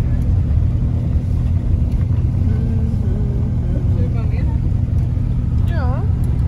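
A car driving slowly around, looking for the way into a campsite in Östergötland: a steady low engine and road rumble inside the cabin throughout, with people talking and faint whistling tones over it.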